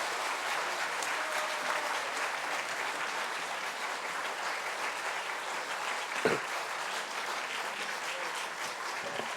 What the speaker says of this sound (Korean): 우리 들어갈 때까지 큰 박수로 함께 축복하겠습니다